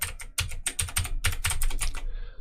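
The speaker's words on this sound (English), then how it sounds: "So I'm gonna type in a password." A password is typed on a computer keyboard in a quick run of close, crisp key clicks that stop just before the end. No one speaks.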